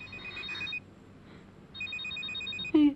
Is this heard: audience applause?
no